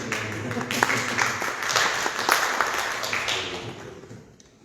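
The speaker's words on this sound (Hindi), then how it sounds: "थोड़ी ताली दें।" An audience at a religious gathering gives a round of applause, a steady wash of many hands clapping that swells and then fades out toward the end.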